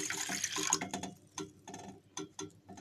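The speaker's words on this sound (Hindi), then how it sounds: "इसमें ऐड करेंगे 2 कप पानी।" Two cups of water poured into a pan for Kashmiri chai, a gentle splashing pour at close range that thins into scattered drips and taps, with no talking.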